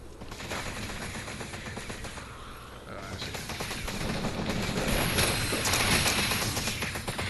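Rapid bursts of gunfire from a sci-fi weapon in the Farpoint VR shooter, dense and continuous, with a mechanical rattle that swells louder in the second half.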